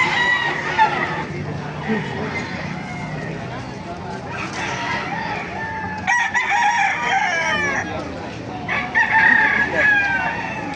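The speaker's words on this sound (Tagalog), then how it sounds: "Ganda mga manok oh." Chickens cluck and roosters crow repeatedly at close range at a market in Baliuag, with scattered voices mixed in.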